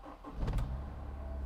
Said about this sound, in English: Now it started. It sounds exactly like a Honda.